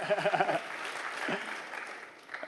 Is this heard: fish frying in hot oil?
no